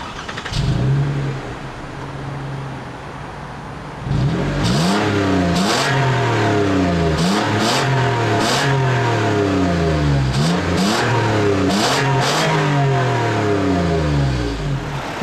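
A 2015 Toyota Sienna SE with a 3.5-liter 2GR-FE double overhead cam V6 revs loudly, first one short rev, then after a pause a long run of repeated rises and falls in engine pitch, close and strong throughout.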